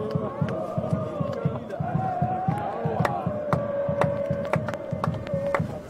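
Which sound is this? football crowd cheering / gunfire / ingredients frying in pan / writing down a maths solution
football crowd cheering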